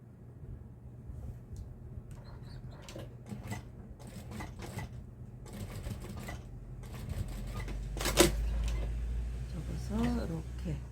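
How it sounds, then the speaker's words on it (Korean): A sewing machine stitches a strap onto a flower sun bonnet, giving a close run of mechanical clicks and whirring bursts with a voice talking in the background. "박음질 해주시면 돼요."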